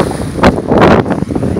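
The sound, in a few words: wind on a lake on a windy day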